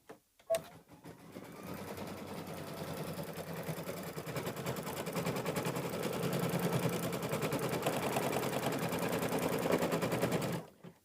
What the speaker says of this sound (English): It's now going to stitch out this additional little clover petals here.